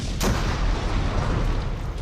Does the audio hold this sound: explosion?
yes